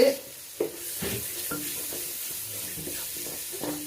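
Ginger tipped into a pan of frying garlic and stirred, giving a few sharp scraping knocks over a low, steady sizzle.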